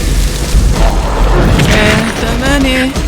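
A deep, rumbling bomb blast in the shooter game XSHOT, heavy low booming that fills the clip while a player talks over it.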